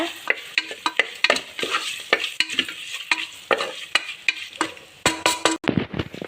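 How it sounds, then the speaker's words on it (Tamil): Bay leaves and whole spices sauté over low heat in a pressure cooker, with a soft sizzle under steady, rhythmic scraping and clinking stir strokes that sharpen into a few louder knocks near the end. "சிம்மில் வச்சு வதக்கிக்கோங்க"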